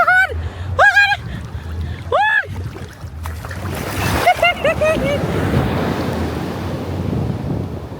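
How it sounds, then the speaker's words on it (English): Surf rumbles and washes steadily with wind buffeting the microphone, while a few high excited voices call out at the start. "That wave was so big."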